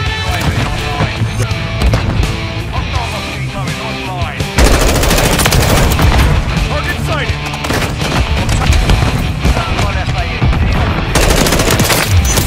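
Rapid gunfire in Call of Duty: Modern Warfare III multiplayer, loud dense bursts of automatic fire that intensify midway, with shouted voices mixed in.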